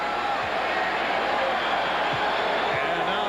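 Crowd at a 1995 Chicago Bulls at Indiana Pacers basketball game, reacting to Michael Jordan: a dense, steady roar of voices filling the arena, holding at an even level throughout.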